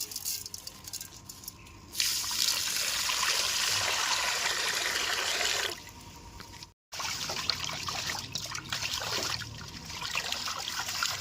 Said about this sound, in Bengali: বন্ধুরা এবার চালটা ধুয়ে নেবো।